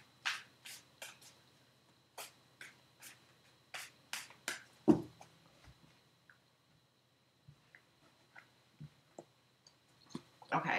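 Crisp riffling tarot card shuffles: several quick bursts of flapping and snapping in the first half, then softer scattered taps and shuffles, close up and fairly quiet.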